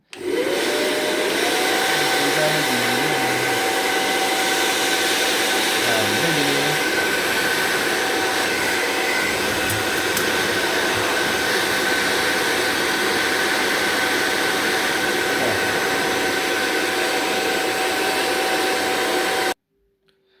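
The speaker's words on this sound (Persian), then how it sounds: "اونو اول با یه سشوار میگیرم" A hair dryer blows steadily to dry spray lubricant off a household appliance part during repair, a loud continuous whirring rush that holds for about twenty seconds before cutting off.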